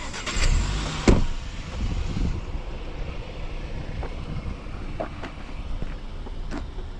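A 2020 Audi Q5 S-line driving along the road outside, a steady low rumble of engine and tyres with wind buffeting the microphone and a brief thump near the start.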